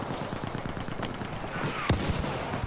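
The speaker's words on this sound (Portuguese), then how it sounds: "Artilharia." Artillery fire in the Battlefield V Firestorm mode: a dense, continuous rumble of distant gunfire and blasts with one sharper, louder impact near the end, with no talking.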